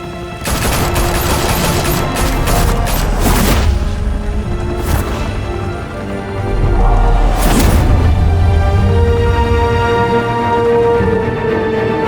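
Mob shooters open fire in the Telltale Batman video game: rapid bursts of automatic gunfire and sharp shots, loud and close, with heavy booms and rumbling impacts between volleys.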